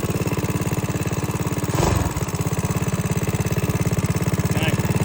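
A minibike engine runs steadily at about quarter throttle, with a close, even low putter and a brief louder rush near the two-second mark before it settles back.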